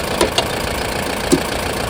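A truck engine idles steadily with a low mid-frequency rumble, a couple of faint clicks and a brief thump standing out, and no talk over it.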